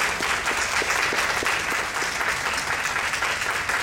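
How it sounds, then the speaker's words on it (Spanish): Dense, steady applause from a sizeable audience, many hands clapping continuously at an even level throughout. "A la maestra María Enriqueta Parra, démosle un aplauso, por favor."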